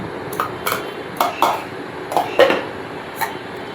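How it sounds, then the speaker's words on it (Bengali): Soya chunks tipped into hot water in a pot on a multi-kettle, giving a few light clinks and taps of utensil against metal in quick separate bursts, near and moderately loud, with no talking. "আমি গরম জলে সোয়াবিনটা দিয়ে দিলাম"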